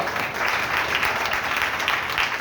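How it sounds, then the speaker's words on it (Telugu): Sunday evening church congregation clapping loudly together, a dense steady patter of many hands close and continuous through the moment. "కొట్టు చప్పట్ల గట్టిగా."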